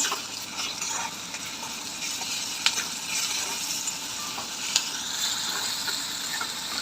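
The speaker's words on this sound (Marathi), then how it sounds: "हिरवं वाटण टाकून घेऊ छान प्रकारे मिक्स करून घेऊया" Green masala paste fries with browned onion in a pan for a suran vegetable dish, a soft continuous sizzle and hiss with a couple of faint clinks from stirring.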